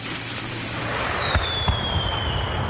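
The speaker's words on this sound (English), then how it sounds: "Fireworks." Fireworks go off as a short sound effect in a radio spot for a 4th of July celebration, a rising whistle followed by a few sharp pops and crackles over steady noise.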